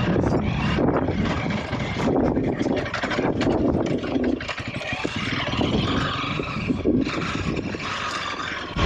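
A Honda CRF 300L motorcycle engine drones steadily while riding downhill in fourth gear through Hidden Falls Adventure Park, mixed with heavy wind buffeting on the microphone and no speech.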